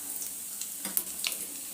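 Mustard and cumin seeds crackle and sizzle in hot oil during tempering for a mango pickle, with a steady quiet fry and a few sharper pops near the middle.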